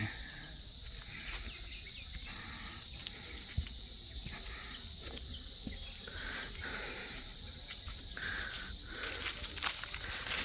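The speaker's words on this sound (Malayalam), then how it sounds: "ശരിക്കും പറഞ്ഞാൽ ഒരു ഏകാന്തത ഭയങ്കര ചീവീടുകളുടെ ബഹളം" Dense, steady cricket chirring fills a quiet temple ground in Palakkad, a loud continuous high drone with faint bird calls now and then, no voices.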